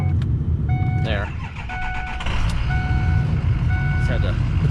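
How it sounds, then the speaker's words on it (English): Repeated electronic beeping from a 2007 Ford F250 diesel 4x4 pickup's alarm, sounding in steady pulsed bursts over a loud idling diesel engine rumble, close by. "Get the alarm to go off."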